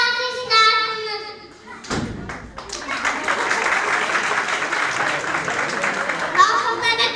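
Audience applause at a kindergarten Mother's Day show fills the room as a dense, steady wash of clapping that swells after a brief voice-like opening and continues loudly to the end.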